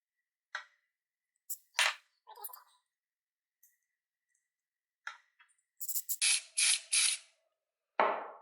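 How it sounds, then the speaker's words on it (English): Short hissing bursts from a spray can hit a stabilized boxelder burl woodturning coated in designer epoxy, sprayed from a distance in quick clustered puffs with quiet gaps between them, close and fairly crisp, with no speech. "I'm spraying it from distance to try and limit how much foaming we're going to get."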